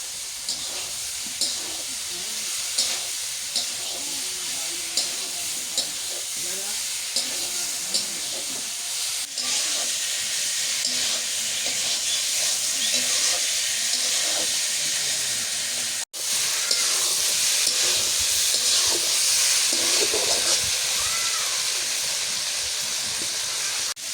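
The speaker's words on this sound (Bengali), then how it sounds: "কষানো হয়ে গেছে, এবার ভাজা পটল গুলো দিয়ে দিই।" Fried pointed gourd added to a spiced base of chili powder, salt and turmeric for a snakehead fish curry sizzles with a loud, steady steamy hiss, punctuated by regular light clicks of stirring, with a brief cut midway.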